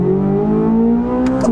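A 2023 Chevrolet Corvette Z06 accelerating hard, a loud, close, steady engine roar with a rising tone over a brief burst.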